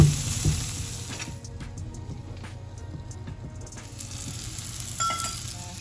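Tomatoes and onions sauté with spices in a pan for black chana curry, a continuous sizzle and crackle with a few soft stirring knocks and no talking.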